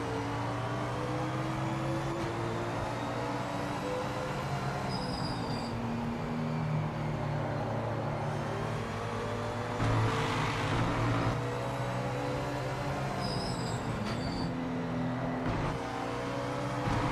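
A race car engine in the video game Project Motor Racing holds a steady high-revving tone, then drops and climbs again through gear changes under braking, loud and continuous with brief harsher bursts midway.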